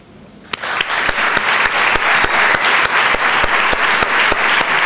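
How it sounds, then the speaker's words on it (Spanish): An audience at a live concert bursts into loud, sustained applause, dense clapping that swells quickly after a sharp start and holds steady, with occasional louder claps standing out. "quiero pedir un aplauso para el programa Huellas de Coca-Cola"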